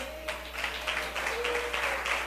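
A church congregation applauding during a sermon, a soft spread of steady clapping heard from a distance, with a faint voice in the background.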